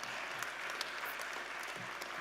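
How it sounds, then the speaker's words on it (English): Audience applause at a training awards ceremony, a steady wash of many hands clapping throughout, moderately loud and sustained with no pauses. "Can you please give that woman a round of applause for just having a go?"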